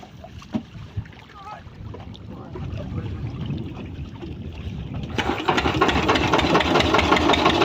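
A village fishing boat's engine starts and runs on a rainy, windy night, rising from a low rumble to a steady, louder drone after about five seconds. A faint voice is heard at first.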